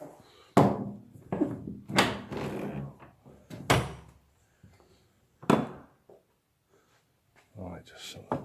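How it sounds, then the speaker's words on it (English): A heavy old church door is shut, giving dull wooden thunks and knocks among the voices of people talking nearby inside the church. "Right, just shut the door"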